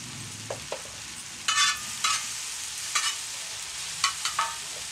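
A prawn Maggi and mixed-vegetable mixture sizzles softly in a pan. A spoon gives several distinct scraping strokes and taps as the mixture is stirred and fried, and no one speaks.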